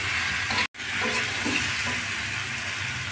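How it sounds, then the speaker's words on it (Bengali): Eggplant with salt and turmeric frying in a pan, a dense close sizzle with faint stirring, interrupted by a brief cut of silence before resuming steadily. "আমি বেগুন দিয়ে আরও কিছুক্ষণ ভালো করে কষিয়ে নেব।"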